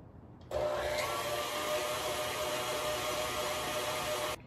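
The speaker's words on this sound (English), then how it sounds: "So I'm just gonna mix them on high until they're nice and fluffy" An electric mixer runs on high speed, whipping egg whites for a dessert trifle: a loud, steady whirring hum that starts abruptly, holds for about four seconds, then cuts off.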